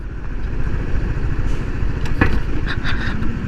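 Honda CBR150R motorcycle engine running while being ridden, a steady loud drone with a constant low rumble and faint clatter throughout.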